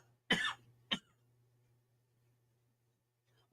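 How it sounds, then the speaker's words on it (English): A smoker's cough: one harsh, rough burst followed quickly by a shorter second cough, close and fairly loud over a low steady hum, then quiet. "Now I'm just coughing because I'm smoking."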